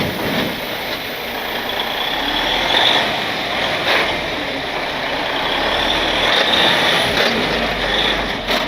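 A truck rolls past with a broad, steady roar of engine and road noise, swelling slightly and staying loud throughout, with no voices.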